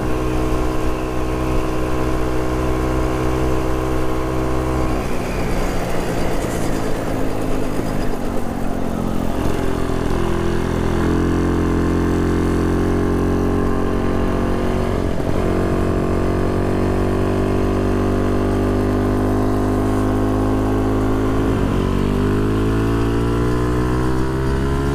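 A Jawa 250 motorcycle engine on a cold autumn ride, a loud, steady two-stroke drone that shifts pitch as the bike speeds up and changes gear without the clutch, continuous and close throughout.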